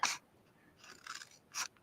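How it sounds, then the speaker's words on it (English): Craft scissors snip through paper while trimming a handmade card, with three quiet crisp cuts spaced across a short, close, hushed moment. "let's just take our snips, our scissors, flip this around and cut"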